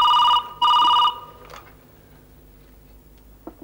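A telephone bell rings in two loud, close bursts with a short gap between them, followed by quiet room tone and a faint click near the end.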